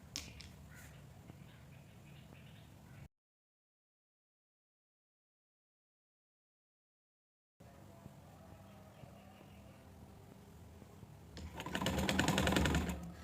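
A domestic sewing machine stitches elastic onto trouser fabric, a faint steady whirring broken by a long silent gap, then returning and swelling into a louder, fast rattling run near the end.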